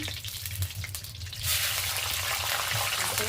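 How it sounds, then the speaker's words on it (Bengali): Cauliflower pieces hit a hot pan of oil and break into a loud, steady sizzle that holds without a break after a quieter start. "এবার ফুলকপিটা ভাজবো"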